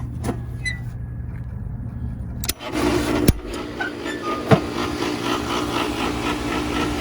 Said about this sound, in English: I'm gonna turn the pool pump on